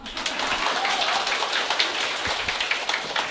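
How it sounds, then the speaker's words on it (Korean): An audience at a Sunday gathering clapping, dense, steady applause that continues for a few seconds. "박수 치려면 확실히 쳐봐요"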